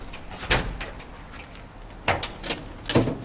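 The shaved door of a 1955 Chevy big-window pickup street rod, fitted with poppers, opens with a few short mechanical clunks and rattles at close range, no talking.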